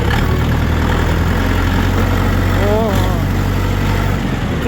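A mini tractor engine idles steadily and loudly up close, with a brief rising whine partway through as the hand throttle is used.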